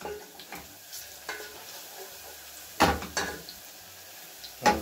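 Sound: garlic frying and being stirred in a pan

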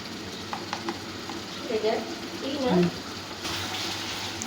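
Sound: stirring frying onions with ginger garlic paste

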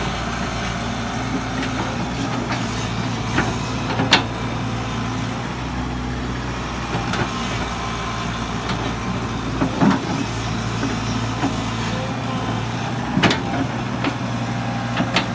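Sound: Kobelco SK045 mini excavator building a road

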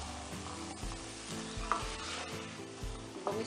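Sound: stirring rice with corn and peas in a pan

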